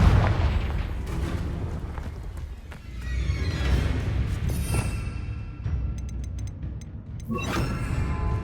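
Confringo blasting curse explosions in Hogwarts Legacy, several booming bursts with crackling tails against a rumbling game ambience, loud and close.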